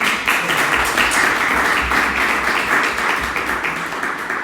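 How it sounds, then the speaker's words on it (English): An audience at a remote-work talk claps hands, a dense, continuous wash of applause filling the room at full volume from start to finish. "A little clap your hands, please, for the audience."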